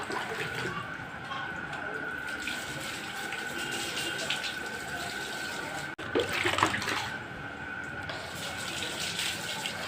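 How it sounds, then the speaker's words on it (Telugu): Water streams steadily from a vessel onto potted plants, a continuous close gushing splash that swells briefly partway through, with a faint voice underneath. "ఇట్లా బాగా పోసేస్తా చూడండి ఎట్లా కారుతుంది"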